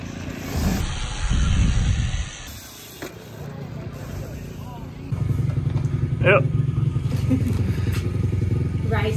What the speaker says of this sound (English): We're warming up the pit bike.